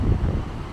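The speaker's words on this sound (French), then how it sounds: "Il y a un vent de dingue." Strong wind gusting at a beach harbour, a steady low roar of buffeting noise across the microphone with no voices.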